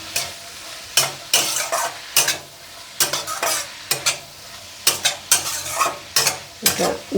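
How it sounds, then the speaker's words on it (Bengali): Mushrooms frying in a pan with salt, a steady sizzle broken by repeated loud scraping stirs of a spatula at a fairly even rhythm, close and clear with no talking. "একটু ভালো করে ভেজে নেব, মাশরুমগুলো সিদ্ধ হবে, লবণ দিয়ে দিই।"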